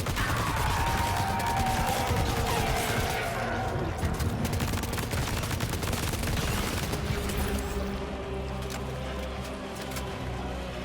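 Sustained gunfire from a newly acquired gun in Death Stranding 2, dense bursts of shots mixed with game ambience and crashing, continuous and moderately loud across about eleven seconds.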